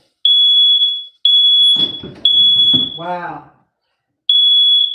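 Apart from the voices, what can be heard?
alarm going off indoors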